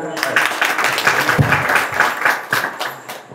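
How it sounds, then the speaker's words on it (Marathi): Hands clap in a steady rhythmic beat as the audience at a Marathi harikirtan welcomes the performers. The repeated claps are fairly close and even in tempo, with some murmuring underneath. "आपण टाळ्या स्वागत करूया"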